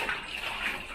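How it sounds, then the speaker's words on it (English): Rushing river water makes a steady, dense hiss close by, with no talk over it. "I can hear river."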